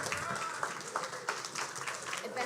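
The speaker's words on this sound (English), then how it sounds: "Everybody give him a nice round of applause" Audience applause rises for a speaker being welcomed onstage at a family office symposium in Naples, a steady crackle of many hands clapping mixed with voices and chatter throughout.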